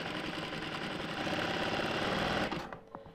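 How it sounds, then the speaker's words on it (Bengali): Sewing machine running in one steady, continuous stitching burst while sewing a cotton housecoat, loud and close with a dense mechanical whir, then stopping abruptly near the end, followed by a few faint clicks. "এক চাপ সেলাই করে যাবেন, টানা।"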